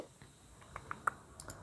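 Computer clicks and light key taps come in a sparse, irregular series during setup of a live stream, close and fairly quiet with no speech.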